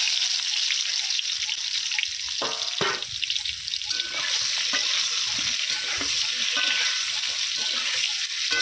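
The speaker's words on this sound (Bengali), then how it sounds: "তেলটা গরম হয়ে গেছে, এবারে আমি তেলের মধ্যে পটলটা দিয়ে দেবো।" Pointed gourd (potol) frying in hot oil makes a loud, bright, constant sizzle up close, with a few stirring knocks and no speech.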